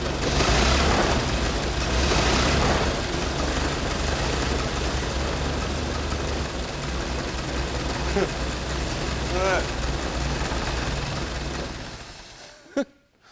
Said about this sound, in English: I started a Model T.